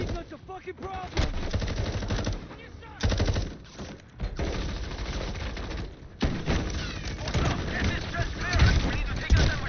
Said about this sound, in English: That machine gun's a fucking problem.